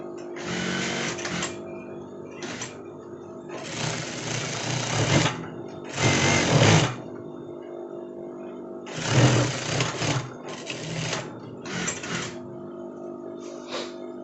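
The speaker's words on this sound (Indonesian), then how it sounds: "Ini kita jahit sampai bawah ya." A sewing machine stitches the front facing of an almamater jacket in several close bursts of rapid mechanical whirring, separated by short pauses.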